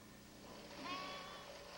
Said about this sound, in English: These are rugged little sheep